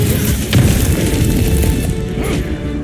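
A heavy explosion in the Marvel's Guardians of the Galaxy game, a loud booming blast with a deep rumbling tail that stays strong and slowly fades over about three seconds.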